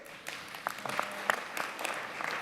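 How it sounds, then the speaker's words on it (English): A public hearing audience led by Mayor de Blasio gives faint, scattered applause, with a few separate claps and a brief cheer heard from a distance. "feel free to clap and cheer when you hear the name you care about"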